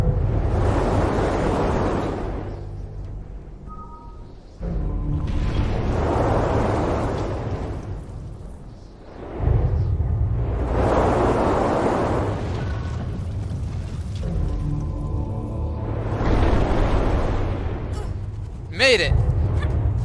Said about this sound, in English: The wind blows back and forth.